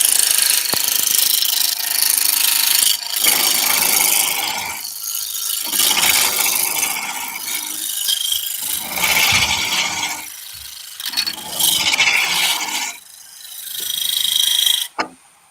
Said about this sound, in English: I'm about to start my lathe up